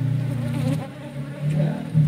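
Honeybees buzzing around a wild honeybee nest, a steady close drone of many wings that rises and falls in pitch as individual bees pass near.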